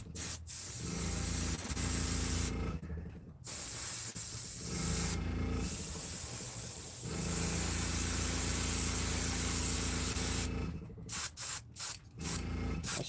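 Airbrush spraying paint in long steady hissing bursts, broken by short pauses and then several quick on-off puffs near the end, loud and close.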